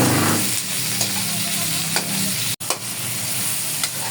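Fish with vegetables and tomato sautéing in a pan, a steady close sizzle and frying crackle with a few stirring clinks over about four seconds.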